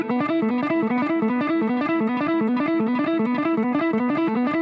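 Distorted electric guitar running a fast two-notes-per-string picking pattern with the pick tilted, producing an unbroken stream of evenly spaced notes with sharp attacks, loud and continuous with no voices.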